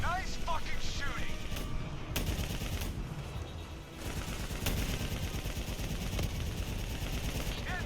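Heavy machine gun firing explosive rounds in the Call of Duty: Black Ops 3 shooter, a dense, continuous roar of bursts and booms with a short lull midway, over a constant battle din.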